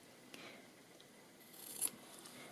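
Scissors snipping fabric while trimming a sewn seam allowance and collar point, a faint close crisp cut or two in a quiet room.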